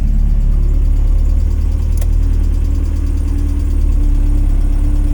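A Mk1 Ford Fiesta engine idles with a steady low rumble, close and unchanging, with a faint brief click partway through; the car has an electrical fault with the headlights on.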